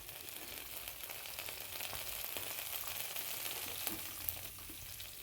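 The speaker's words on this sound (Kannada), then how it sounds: "ನೋಡಿ ಈಗ ಎಣ್ಣೆ ಕಾದಿದೆ. ನಾನು ಇದಕ್ಕೆ ಈರುಳ್ಳಿಯನ್ನು ಹಾಕ್ಕೊಂಡಿದ್ದೀನಿ" Onions sizzle steadily in hot oil, a dense, even frying hiss with faint crackles and no voices.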